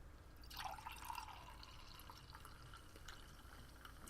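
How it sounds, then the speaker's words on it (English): A drink is poured into a glass, giving a brief trickling, splashing stream near the start followed by faint drips over a low background hum. "We're going to pour a little bit of this."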